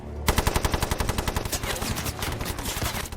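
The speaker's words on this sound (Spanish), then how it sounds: "Su frustración fue palpable, ya que cogió la ametralladora Bren. Kane comienza a disparar." A Bren light machine gun fires in a wartime battle scene, a rapid rhythmic string of loud close shots that starts after a brief pause and runs steadily for about three seconds with no voices.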